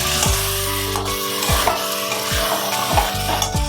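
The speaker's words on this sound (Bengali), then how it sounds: "এইবার আমি স্টমাকটা দিয়ে দিচ্ছি। স্টমাকটা দিয়ে ভালো করে আমি কষিয়ে নেব।" Chicken stomach pieces stirred and fried in a spice masala for a liver and gizzard curry, with steady sizzling and several scraping strokes of a spatula against the pan, close up and without talk.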